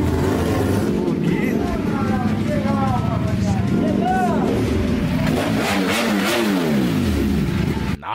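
Several new motorcycles arrive one after another at a lake house, engines revving and rising and falling in pitch as they pull in close, loud and continuous, with people talking over them.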